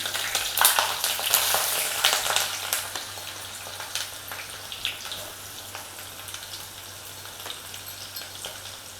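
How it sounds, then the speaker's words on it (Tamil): Chopped onions with green chilies sautéing in hot oil for a drumstick egg curry, a close steady sizzle that is strongest early on with stirring clicks, then settles into a softer continuous frying hiss. "இப்போ வெங்காயம் வந்து கொஞ்சம் பொன்னிறம் ஆகிற வரைக்கும் நம்ம இதை வதக்கிடலாம்"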